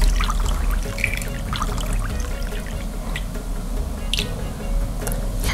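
Boiled water poured carefully into a jar while making pickles, a steady close trickle and splash running throughout with no one speaking.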